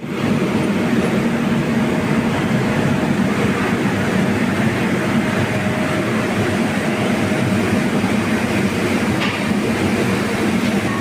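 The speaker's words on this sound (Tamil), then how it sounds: "இன்னொன்று WAP5 Chandigarh to new Delhi Shatabdi express" A WAP5 electric locomotive hauls the Chandigarh–New Delhi Shatabdi Express through Chandigarh station, its steady rolling rumble and rail clatter loud and continuous throughout with no voices.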